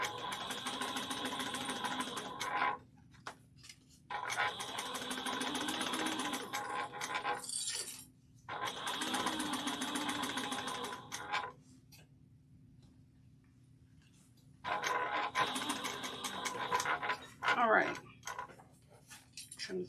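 A sewing machine stitches a bag's exterior to its main lining at a quarter-inch seam, whirring in several runs of a few seconds each, separated by quiet pauses.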